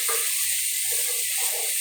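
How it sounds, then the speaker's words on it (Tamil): Ginger garlic paste sizzles steadily as it sautés in a pan for a fish curry, with a constant frying hiss broken by soft, rhythmic scrapes of a spoon stirring it. "நல்லா இஞ்சிலாம் வதங்கணும்"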